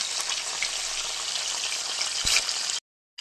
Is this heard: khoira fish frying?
yes